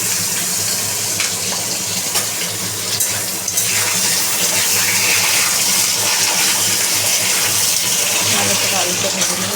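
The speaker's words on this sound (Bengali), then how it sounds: "এরপরে আমি আলুগুলো ভেজে নেবো।" Potatoes frying in a pan, after a tempering of dried red chillies, give off a loud, continuous hiss close up for about ten seconds without a break.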